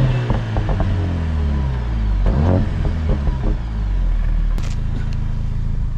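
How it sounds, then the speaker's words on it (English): The four-cylinder engine of a 2025 Mercedes-AMG CLA 45 S rumbles steadily and revs up, its exhaust note rising and falling, close and loud with no talking. "Try giving you guys some exhaust clips"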